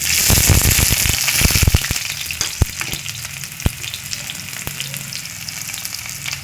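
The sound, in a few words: onions added to frying cauliflower and potato with fenugreek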